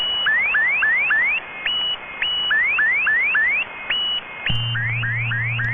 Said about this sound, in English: Can anyone else hear that car alarm like down at the bottom of their radio?